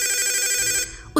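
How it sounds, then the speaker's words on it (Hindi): A telephone bell rings in a continuous electronic trill, then cuts off abruptly, followed by a brief soft thump. "टेलीफोन की घंटी ने उसे जगा दिया।"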